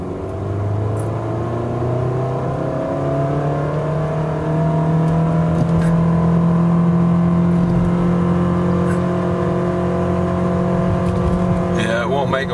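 An automatic car launches from a dead stop at wide open throttle, its engine climbing loud and close in one long rising pull that never reaches redline or shifts from first to second, a droning whir throughout.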